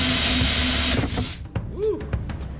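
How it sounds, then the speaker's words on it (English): A power drill whirs loudly for about a second in a metal-working windmill build, then spins down and stops, followed by a few clanks and handling knocks. "Get my drill out."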